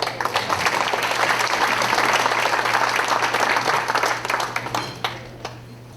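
Sustained applause from a crowd at a volunteer tribute event in Princeville, Quebec, steady and dense throughout, tapering slightly toward the end.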